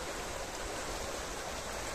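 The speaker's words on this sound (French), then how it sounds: "une rivière artificielle. Vous voyez là, ça, ça tourne là" Water running through an artificial river, heard as a steady, close, even rush of flow with no other sounds.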